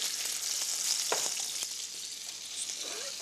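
Oil sizzles and spits steadily in a frying pan, a close, bright crackle that keeps up throughout with a few stirring scrapes.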